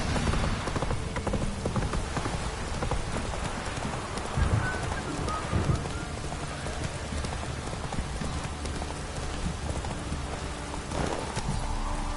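Roach, the horse in The Witcher 3, galloping with a steady, close clip-clop of hooves that runs throughout, with a faint patter of rain and other game ambience underneath.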